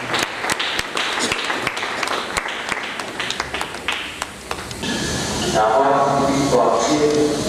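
Crowd cheering and applauding at a funeral mourning André Mandoboy in DR Congo, sharp scattered claps giving way to a louder, sustained swell of cheers and applause.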